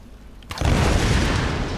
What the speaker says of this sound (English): See, make explosions over there.